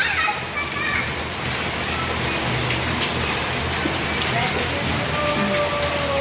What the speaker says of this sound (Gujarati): તડકો છે ને વરસાદ આવે બોલો